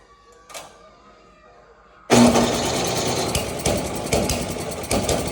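A snowblower engine is being started after choking: after a quiet stretch with a brief rattle, the small engine suddenly catches and runs loudly, its rough rhythmic chugging continuing close by.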